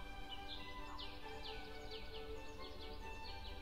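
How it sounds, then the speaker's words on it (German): Birds chirping in a life simulation game, short repeated high tweets over a steady ambient hum, fairly faint and at an even pace, no talking. "Hört ihr die Vögel zwitschern?"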